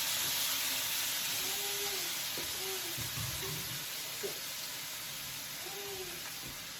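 A pound of wild-caught Gulf shrimp, 31 to 35 count, hitting a hot pan: a steady close sizzle and hiss with a few soft clinks and stirring sounds over it.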